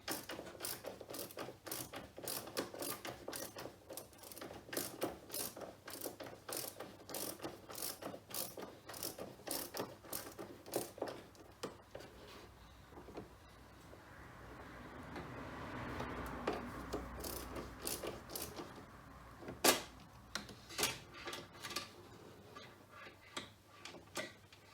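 Rapid ratcheting clicks from a tool backing out trim screws on the rear door B pillar of a Porsche Panamera 970, steady bursts of close, quiet ticking with a softer rustling stretch midway.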